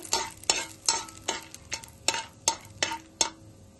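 Whole cloves, cinnamon, star anise and cardamom in oil for butter chicken, heard as about ten evenly spaced sharp scrapes of a utensil against the pan over a faint sizzle, close and clear.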